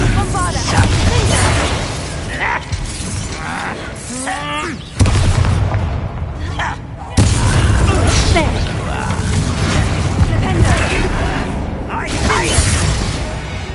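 Bombarda explosion spell in Hogwarts Legacy: loud, dense booms and crashing bursts with sharp onsets around the middle, layered over dramatic music and voices.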